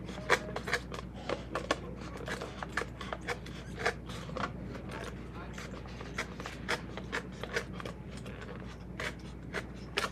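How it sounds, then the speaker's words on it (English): Craft knife scraping and slicing through a styrofoam cup to cut a ring, giving a steady run of small squeaky rasping strokes up close under a low background hum. "using this technique, I'm going to cut another ring."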